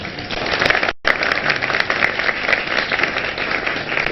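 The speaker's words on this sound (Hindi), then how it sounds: "उनके लिए तालियां।" A studio audience on a Ramzan special morning show applauds a guest with a loud, dense burst of clapping, briefly cut out near the start, then continuing steady and close.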